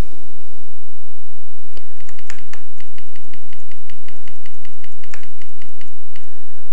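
Typing on a computer keyboard, close and loud, with bursts of rapid key clicks separated by short pauses and a few sharper single taps, over faint background hiss.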